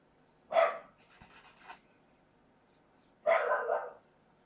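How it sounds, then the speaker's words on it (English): A pet dog at home barks in two separate short bursts, fairly close by, with a quiet pause between them and faint household sounds. "That's my dog."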